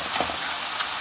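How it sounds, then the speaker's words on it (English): Mushrooms frying in a pan, a steady soft sizzle and hiss with faint crackles throughout, fairly close and alone. "So our mushroom is cooking up nicely."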